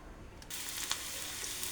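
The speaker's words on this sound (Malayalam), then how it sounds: "അപ്പം നമ്മുടെ വെളിച്ചെണ്ണയ്ക്കകത്ത് കടുക് വറക്കാൻ ഉള്ളി ഇട്ടു" Onion dropped into hot coconut oil for a mustard-seed tempering, a soft steady sizzle that swells after a brief quiet start and continues faintly and evenly, close but low in level, no talking.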